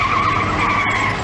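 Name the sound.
car tires squealing on a dirt road, in a movie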